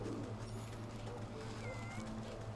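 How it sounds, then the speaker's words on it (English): Cats meowing in the game Wytchwood, faint thin mews over a low steady hum, a couple of brief calls in quiet background. "Look at all these cats."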